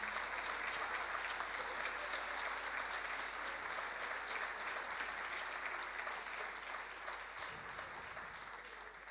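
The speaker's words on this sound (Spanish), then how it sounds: "Fuerte el aplauso para el amigo Juan." An audience applauds steadily for a bandoneon player at a live music show, the dense clapping sustained and fairly distant throughout before easing slightly near the end.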